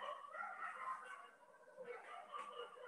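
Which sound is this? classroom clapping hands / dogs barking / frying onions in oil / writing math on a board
dogs barking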